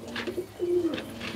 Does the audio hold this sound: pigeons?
yes